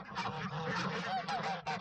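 Farmyard geese honk loudly and continuously while crowding a feed trough of cattle feed mixed with rice bran, jostling with chickens and ducks; the honks overlap in a dense, close, steady chorus.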